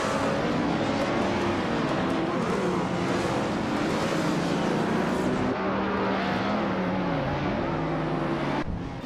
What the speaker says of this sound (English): Dave Magnussen is driving a 2013 Caterham R500, which is known for its lightweight and agility.